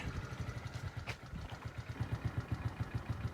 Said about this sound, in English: Got a little running scooter.